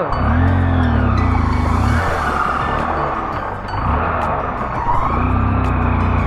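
A motorcycle engine that was submerged in water revs steadily in gear, loud and close, with a continuous droning whine that rises and falls in pitch over several seconds.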